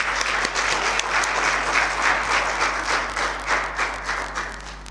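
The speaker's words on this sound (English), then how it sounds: "can we just welcome him back on stage with a round of applause?" Sustained audience applause at a keynote for an art exhibition, dense steady clapping filling the room for the whole stretch as a speaker is welcomed back on stage.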